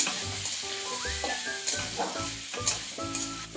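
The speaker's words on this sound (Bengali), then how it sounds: "আলুটাকে হালকা করে ভেজে নেওয়া হবে কীভাবে ভাজা হচ্ছে" Potato pieces fry in oil in a wok with a constant bright sizzle and occasional spatula scrapes, while tonal background music plays beneath the cooking noise.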